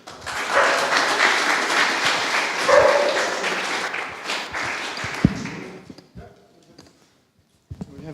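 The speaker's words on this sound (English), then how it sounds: "Another round of applause then." Applause from a meetup audience in a room, a dense burst of clapping that fades out over several seconds, with scattered claps near the end.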